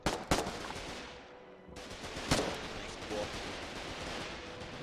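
Gunfire in the video game Foxhole: a few sharp, loud shots near the start and another crack partway through, then a steady rattle of distant shooting continuing underneath.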